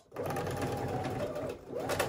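A home sewing machine stitching a seam on a tank dress runs with a rapid, steady mechanical whirr, pauses briefly near the end, then starts again, close and clear.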